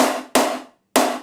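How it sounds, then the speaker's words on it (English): Three snare drum hits, each followed by a big burst of gated reverb that stops abruptly instead of fading naturally. No other sounds between them. "you can hear there's like a big reverb on it, but then the reverb cuts off."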